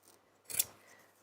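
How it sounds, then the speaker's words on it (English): Scissors snip through fabric beside the raw edge of a zip during sewing, a single close, crisp cut in a quiet room. "We're just going to trim in line with the raw edge of that zip there."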